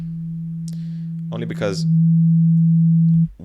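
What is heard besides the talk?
synthesized sine wave tone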